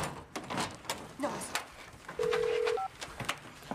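A telephone gives a short electronic ring tone partway through, fairly faint, among background noise and light clatter in a room.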